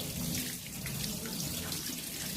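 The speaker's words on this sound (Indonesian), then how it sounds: "bilaslah tangan dengan air mengalir" Steady rushing water from a tap runs continuously while hands are rinsed, a broad hiss with no voices.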